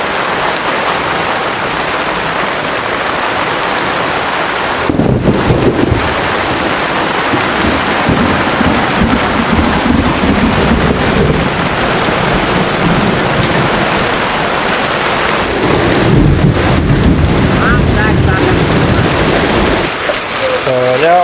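Heavy rain hammers down in a village near Botad, a loud continuous wash with gusty surges and rumbling, and people talk intermittently over it.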